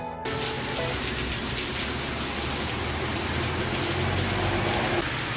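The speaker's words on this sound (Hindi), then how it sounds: "बारिश अभी भी शुरू है" Steady rain falls at a night beach campsite near Mandvi in Kutch, a dense, even hiss of drops on surfaces that stays close and constant throughout, with no talking.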